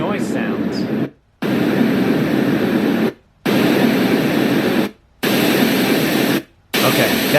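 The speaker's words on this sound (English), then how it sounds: "More white noise sounds." Renpho white noise sleep machine playing steady broadband white noise, loud and close, cut by four short silent gaps as settings change.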